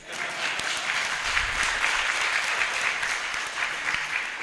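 Audience at a university human rights moot competition applauds an introduced lecturer, a sustained, even wash of many hands clapping, moderately loud throughout.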